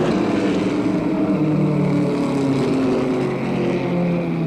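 NASCAR stock cars at the 1980 Winston 500 at Talladega, running slowly under caution, give a continuous droning engine rumble that stays steady and fairly loud, with no voices.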